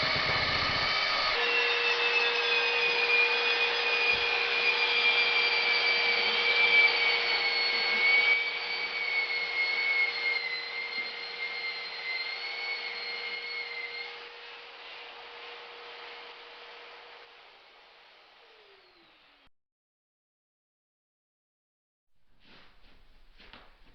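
A power mixer churns plasterboard joint compound, a loud steady whirring drone with a fixed whine that fades in the last stretch, then stops, leaving a few faint clicks.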